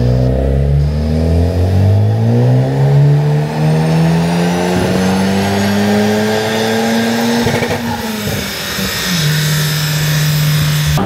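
A Honda Civic Type R with a Spoon N1 aftermarket exhaust revs up with a climbing, raspy roar, holds high, then drops back and blips again, loud and close.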